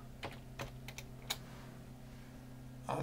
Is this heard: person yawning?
no